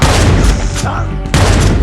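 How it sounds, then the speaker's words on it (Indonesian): Gunfire in a film fight scene: a rapid burst of loud shots, a brief lull, then another burst of blasts, mixed with film soundtrack. "tembakan Henry bisa menembus 3 orang dalam satu peluru"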